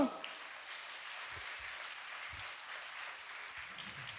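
A church congregation claps during a Catholic sermon, a faint, steady patter of many hands that continues evenly throughout with no voices.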